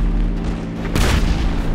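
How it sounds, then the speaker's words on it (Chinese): Tank cannon fire in the video game GTA5, heard as a single loud booming blast about a second in, with low rumble continuing afterward over a steady background hum. "发射大炮"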